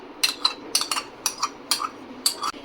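A bowl set out in a kitchen to hold a yogurt marinade, giving a quick series of about nine crisp, close clinks and taps with short gaps between them and no talk.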